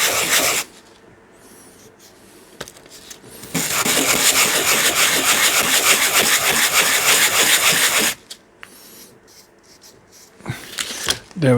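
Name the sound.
sanding MDF terrain piece with sandpaper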